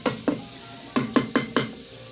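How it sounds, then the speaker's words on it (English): Hot oil frying ranch-flavored turkey wings crackles and pops in a handful of sharp, close bursts over a quiet hiss, with occasional light utensil clatter. "Oil is popping on there."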